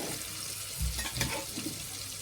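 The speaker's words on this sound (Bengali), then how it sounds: "আমি এবার আলুটা দিয়ে নেব।" Potatoes go into a pan of spice paste frying for aloo dum, giving a soft, low sizzle with a couple of brief stirring scrapes, quiet and close with no talking.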